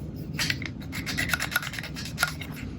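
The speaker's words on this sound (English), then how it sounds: "I'm just going to hit every surface with this alcohol and just try to get all that dust and dirt and grime off of there" An alcohol-dampened cloth wipes the surfaces of a Kodak Instamatic 100 camera, giving close, steady rubbing and light rasping strokes with small scratchy accents.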